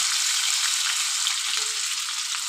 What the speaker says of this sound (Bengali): এখানে আমি আলুটা ভেজে নিচ্ছি